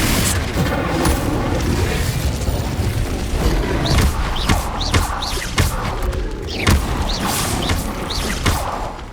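Repeated loud booming blasts from Confringo curses and other spell impacts in Hogwarts Legacy combat, a rapid irregular volley of thuds and crashes layered over busy battle noise.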